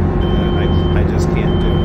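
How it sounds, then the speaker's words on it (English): A helicopter engine in a flight simulator game runs at maxed-out throttle, a loud, steady, close drone with a constant low rumble and a faint high whine throughout. "I've maxed out the throttle, and I'm trying to pull enough power to get in the air."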